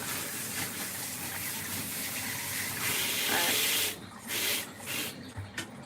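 A stressed, tense cat hisses during grooming, in breathy bursts of hiss that break up toward the end.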